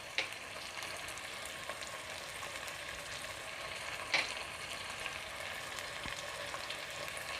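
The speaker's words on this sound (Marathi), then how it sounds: "आपण मसाले पुन्हा चांगले परतून घेऊया" Mutton fries in oil with powdered spices for a home curry, giving a constant soft sizzle with occasional faint stirring clicks, heard alone at a low, even level.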